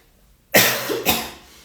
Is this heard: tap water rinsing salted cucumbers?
no